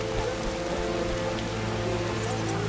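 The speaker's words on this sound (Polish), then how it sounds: "Dawno już tak nie padało." Steady rain falls across a swamp in The Witcher video game, a constant wash of drops running through the whole stretch with a low drone beneath, with no voices over it.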